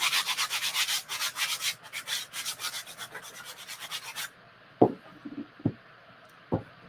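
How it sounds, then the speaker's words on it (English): Quick back-and-forth rubbing of a Dollar Tree sanding block over wood, close and rhythmic for about four seconds, then stopping, followed by a few sharp knocks and taps in near silence. "So just briefly sand each side."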